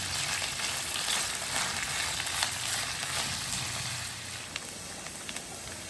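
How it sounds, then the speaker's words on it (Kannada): Sliced onions frying in hot oil for a vegetable dum biryani, making a loud, steady sizzle and crackle throughout that eases slightly toward the end, with no voices. "ನೋಡಿಪ್ಪ, ಎಣ್ಣೆ ಬಿಸಿಯಾಗಿದೆ. ಈರುಳ್ಳಿ ಹಾಕ್ಕೋತಾ ಇದ್ದೀನಿ."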